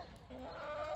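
Chickens in a garden tent coop give a short, soft run of clucks at a moderate distance against a low outdoor background.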